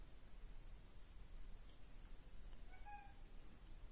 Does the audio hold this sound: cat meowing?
yes